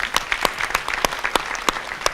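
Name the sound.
round of applause from the audience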